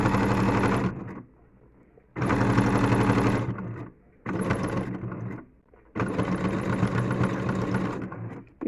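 A sewing machine stitches a border onto a hand towel in four bursts of rapid, rattling mechanical clatter, loud and close, separated by short quiet pauses.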